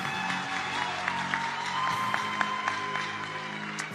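An audience applauds steadily at a Congolese music event, a continuous bed of hand claps with scattered sharper claps, heard alongside sustained music.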